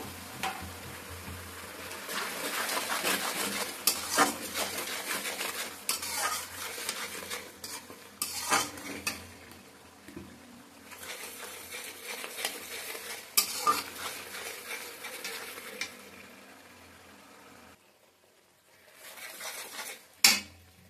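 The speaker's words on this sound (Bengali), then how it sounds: "দিয়ে একটু জল দিলাম, মশলাটা কষে নেব" Spice masala for palak paneer is stirred and sautéed in a pan after a splash of water, with repeated scraping of a metal spoon against the pan over a soft sizzle, ending in a brief pause and one sharp knock.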